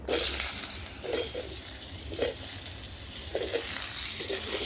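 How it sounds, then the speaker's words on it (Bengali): Potatoes added to fried lentil dumplings (bori) in hot oil, a steady close sizzle with a few soft stirring scrapes of a spoon, no voices. "বড়িগুলো ভেজে নেব, লাল লাল করে ভেজে নিয়েছি। এর মধ্যে দিয়ে দেবো আলু।"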